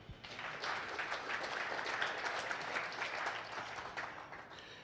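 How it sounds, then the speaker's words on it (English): An audience gives a round of applause for a speaker named Monty, a steady, moderately distant wash of many clapping hands that holds for several seconds and eases off slightly toward the end. "Let's give one more round of applause for Monty."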